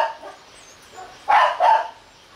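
A dog at a home where many dogs are kept gives a couple of sharp, close barks after softer whimpering yips, against a quiet background.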